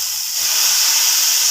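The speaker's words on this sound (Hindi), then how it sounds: "कड़ी को तड़का लग जाता है" Tempering sizzling in hot oil for kadhi, a steady, loud, continuous frying hiss with no break, close by and alone.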